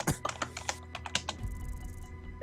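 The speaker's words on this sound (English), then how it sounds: "Are you typing chat?" Rapid clicking keystrokes on a computer keyboard, a quick uneven burst of close taps over faint background noise, then fading into a softer hiss.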